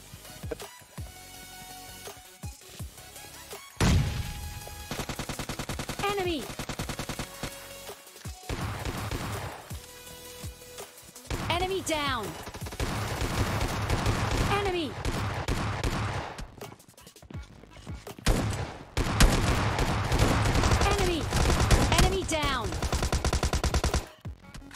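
Rapid bursts of gunfire from PUBG Mobile Lite, loud and dense, with sustained automatic volleys and single shots over game sound, while a voice talks briefly over the shooting.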